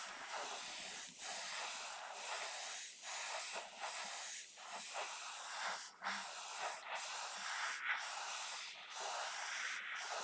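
Airbrush spraying paint along the side of a 1/24 Aoshima Knight Rider model, a continuous close hiss that flutters with short dips as the trigger is feathered, quiet and with no voices.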